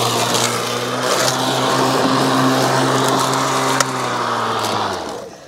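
Litheli U20 battery-powered lawn mower running at high speed through thick grass, a loud steady motor whine with blade hum, holding constant before cutting off at the end.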